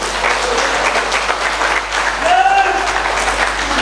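A seated audience at a company anniversary celebration bursts into steady applause during a business plan presentation, close and fairly loud, with a faint voice or tone rising briefly midway.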